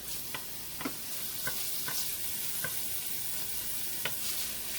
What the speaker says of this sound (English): So I'm going to put some garlic in there. And then I'm going to get that to brown a little bit.